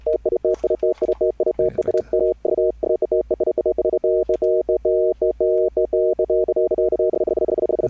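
A Septavox synthesizer's slicer effect chops a sustained tone into rapid, uneven stuttering bursts over a steady low hum, loud and continuous with no voice.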